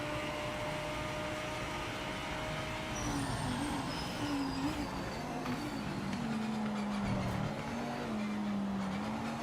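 Race car engine in Project Motor Racing, a steady droning whine that climbs and dips in pitch with shifts and throttle changes, continuous and fairly loud throughout.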